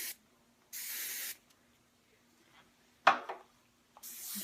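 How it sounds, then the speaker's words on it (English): Hairspray spritzes in short bursts while styling a low bun updo on short hair: a half-second hiss, a quick sharp puff with a rattle, then another hiss starting, with quiet gaps between. "Get my working spray there."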